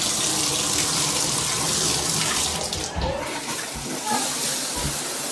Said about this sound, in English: this is my new shower